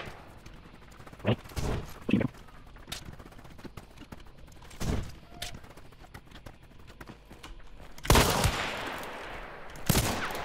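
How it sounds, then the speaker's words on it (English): Shotgun blasts in the first-person shooter Hunt: Showdown, a few loud booming shots spread across the clip, with a burst of heavier noisy gunfire near the end and nothing spoken. "A shotgun"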